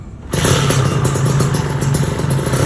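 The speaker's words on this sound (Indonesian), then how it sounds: "Kayak nih suara motor ninja aku ya." A Kawasaki Ninja two-stroke motorcycle engine running rough starts up abruptly and idles with a loud, clattering, uneven buzz and a steady low hum, close by and without talk.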